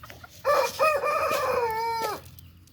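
A rooster on a Kattu Seval farm crows once, close and loud, a single drawn-out call lasting under two seconds against a quiet background.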